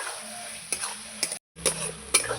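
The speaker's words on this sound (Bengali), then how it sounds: "ভালো করে মশলাটাকে কষিয়ে নেব" Spice paste being stir-fried in a pan for a Bengali bhetki fish head chorchori, soft sizzling with several sharp spatula scrapes and taps against the pan, close and fairly quiet, with a brief pause midway.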